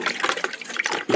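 Food rinsed under running water, a short burst of splashing and pouring close by with no voices.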